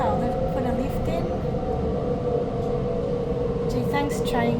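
A Sydney train on the T3 Bankstown Line at Campsie station, with a loud continuous rumble and a steady hum throughout and brief higher squeals near the end.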